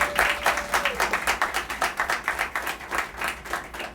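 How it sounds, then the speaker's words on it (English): People at an Animal Village expansion ribbon cutting ceremony clap for the staff. The clapping is sparse and distinctly rhythmic from a smallish outdoor gathering, with a faint voice briefly audible early on. "give Tracy a round of applause for him and his staff"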